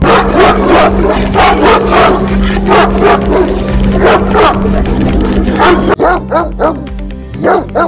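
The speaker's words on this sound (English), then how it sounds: "Powerful and loudest bark. Let's hear it first" A big Bully Kutta or Great Dane barking loudly and repeatedly at close range, deep barks coming in a rapid, steady series.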